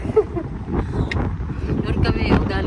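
Gusty, cold wind buffets the microphone in rough low rumbles while people talk nearby in a park, the roar rising and falling over a few seconds.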